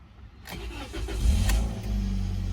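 A car engine cranks and catches after a battery change, then settles into a steady, close idle with no talk over it.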